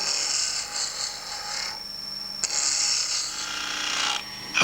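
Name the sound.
roughing out gouge turning lignum vitae wood on lathe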